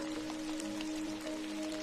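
Rain falls steadily against a greenhouse, a soft continuous patter with a faint low hum beneath it, gentle and even for the whole short stretch.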